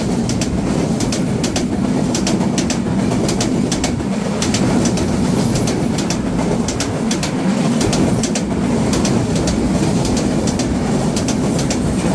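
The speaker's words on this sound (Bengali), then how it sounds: "ঢাকাগামী পঞ্চগড় এক্সপ্রেসের সাথে ডাবল লাইন ক্রসিং রয়েছে" The Dhaka-bound Panchagarh Express crosses at Bhangura on a double line, a steady loud rumble with rhythmic clickety-clack of wheels over rail joints running throughout, with birds faintly audible in the background.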